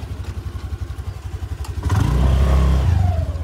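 A motorcycle engine rumbles along a hill road, rising into a louder, closer drone as it passes partway through, then holding steady.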